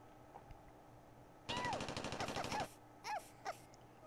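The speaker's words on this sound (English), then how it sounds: "Who knew that Uzis could only do half the damage of a shotgun?" Uzi gunfire from the video game Worms Armageddon: a loud rapid burst of about a second, then two short follow-up bursts, with faint cartoonish voice squeaks mixed in.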